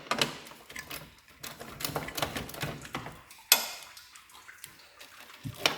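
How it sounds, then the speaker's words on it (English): A 10mm ratchet wrench works during a Jeep LJ radiator replacement, giving quick irregular clicking and rattling bursts up close, with a sharper metallic knock partway through. "There's 10mm ratchet wrench on here."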